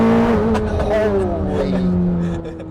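Chevrolet Corvette C8 ZR1, a 1120-horsepower world-record car, accelerating hard at full throttle, a loud rising engine note with strong harmonics that holds steady and fades slightly at the end, with voices in the cabin.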